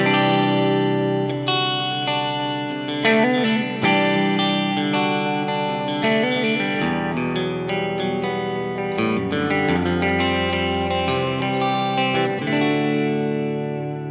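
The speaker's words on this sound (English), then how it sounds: "if I'm using an atmospheric delay, I like to use the one in the Sidekick." A sustained, layered electric guitar plays chords through an atmospheric delay pedal, with long trailing repeats and a wide, washy shimmer, loud and continuous throughout.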